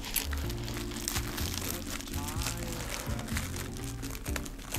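Plastic film wrapping on a boxed Kantai Collection Kashima figure crinkles and tears as it is opened, close and continuous rustling over a steady low hum in the background.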